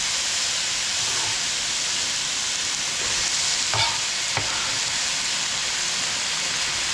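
Green pepper and onions sizzle loudly in a skillet of eggplant and chickpeas, a dense, continuous hiss broken by a couple of sharp utensil clinks.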